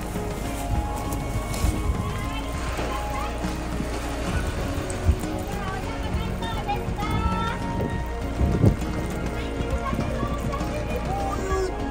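Rain patters steadily on surfaces at a fish market on a stormy morning, a continuous hiss with scattered drips and knocks as people talk nearby.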